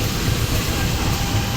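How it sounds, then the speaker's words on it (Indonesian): The Jaya Sembrani train rushing past close by in Indonesia, a dense continuous roar with low rumbling and faint rhythmic clatter of wheels. "Efek disilang oleh kereta api Jaya Sembrani tambahan."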